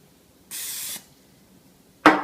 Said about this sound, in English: I'll take my spray, my non-stick spray, and I'll spray